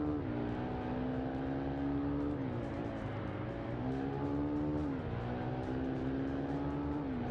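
Motorcycle engines race in the Ride 2 video game, with a KTM Duke 690 and a BMW, giving a loud, steady engine drone whose pitch climbs and drops repeatedly through gear changes, with no talking.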